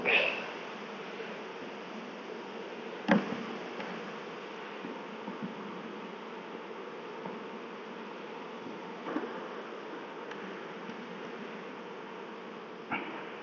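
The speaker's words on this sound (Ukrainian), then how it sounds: "Оса." A wasp buzzes around beehive frames during a September beekeeping check, the insect drone steady and fairly close throughout with faint handling clicks and rustles of the frames.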